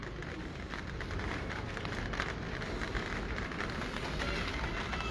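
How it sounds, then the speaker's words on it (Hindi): Heavy rain pours down in a steady, dense hiss that stays loud and unbroken from start to finish, with no voices over it. "बारिश तेज हो गई है दोस्तों,"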